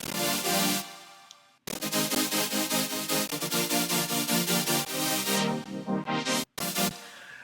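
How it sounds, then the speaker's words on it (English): Serum future bass patch with wide detuned unison oscillators plays thick pulsing chords, rhythmically chopped in fast repeated swells, dense and loud, with brief breaks near the start and end and no talking. "So the first patch we have here, just going to unfreeze it, is Serum"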